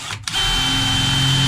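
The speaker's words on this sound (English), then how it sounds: "all we're gonna do is drill 4" A steady, high-pitched power drill whirs continuously after a short pause, with a sharp start partway in, heard close up and alone, drilling pilot holes through a cargo trailer roof.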